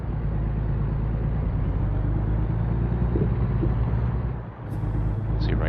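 Car engine in a driving video game while cruising in third gear, a steady loud low rumble that dips briefly near the end before resuming.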